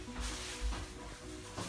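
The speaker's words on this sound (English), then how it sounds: "what we're going to do is get this mince in actually and stir it around" Beef mince stirred into cooking onions in a pan for a Bombay beef madras, a soft steady sizzle with a few scraping stirs, close and quiet, and no talking.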